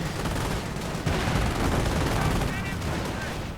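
Gunfire from a heavy machine gun team in a real-time strategy video game, a dense, continuous rattle of shots amid battle noise, steady and fairly loud throughout.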